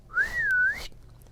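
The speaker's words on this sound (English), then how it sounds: "whistled for the waiter." A single rising-then-falling whistle, as someone in a restaurant whistles for a waiter, clear and close, lasting under a second with quiet around it.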